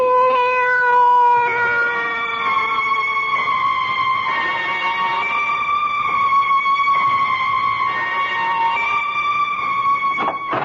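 A cat meows and caterwauls at length in a 1970s CBS radio mystery drama, the long wavering cries loud and close with no talk over them.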